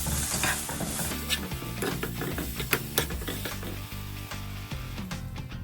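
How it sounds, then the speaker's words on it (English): Cooked masala mixed with cilantro in a pan with the flame switched off: close, repeated scraping and clattering spoon strokes over a low sizzle, continuous with no voices. "we will switch off the flame and add the cilantro and mix them up"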